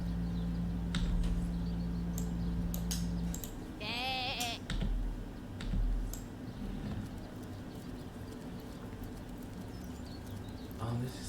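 A sheep in the Divinity: Original Sin game gives a short bleat over steady background game ambience and music, fairly close, with footsteps and small interface clicks around it.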